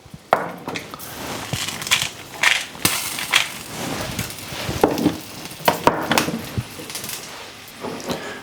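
Chili peppers roasting in a hot pan give off a steady crackling sizzle, with occasional louder pops and scraping as they are turned.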